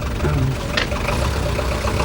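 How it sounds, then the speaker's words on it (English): A rented car's engine left running at idle, a steady low rumble with faint knocking texture, heard nearby throughout under other background sound. "You've left the engine running."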